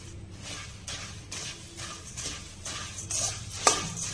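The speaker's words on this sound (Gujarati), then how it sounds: "જ્યાં સુધી તેમાંથી મોઇસ્ચર દૂર ના થઈ જાય ત્યાં સુધી આપણે તેને મિક્સ કરી લઈશું" Puffed rice (murmura) is dry-roasted and stirred in a pan, giving soft rhythmic scraping and rustling strokes, steady and close, ending in a small clink.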